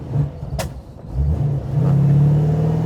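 A 1934 Plymouth car engine revs up as it accelerates, its note building steadily from a low rumble into a louder, rising drone, close and continuous with no talking over it.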